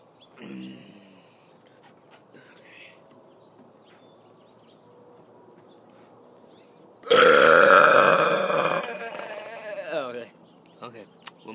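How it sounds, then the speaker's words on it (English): A single loud, long burp erupts after a quiet stretch with faint background sounds, near and dominant for several seconds before trailing off. "I'm gonna do one burp. Really loud."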